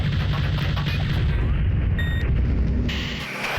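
Continuous rumbling gunfire and booms from a combat flight sim, Fighters Anthology, as soldiers are strafed near an airfield under attack, a dense low roar with a brief high whine, no talking.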